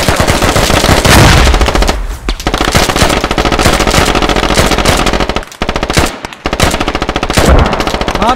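Loud, sustained automatic gunfire in the military shooter Squad, dense rapid rounds rattling almost nonstop with a few brief pauses between bursts.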